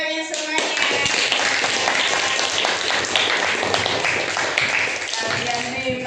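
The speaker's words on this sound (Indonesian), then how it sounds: "Tepuk tangan semuanya." A classroom of students claps together for about six seconds, a dense, steady burst of applause with a few voices underneath, after a science lesson on electrons and protons.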